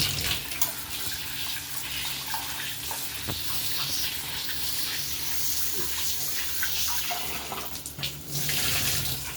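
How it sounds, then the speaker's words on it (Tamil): Dried fish being rinsed under a running tap, a steady close splashing stream of water with small shifts in flow and a brief louder surge near the end. "இப்படி கருவாடை அலசிக்கலாம்ப்பா."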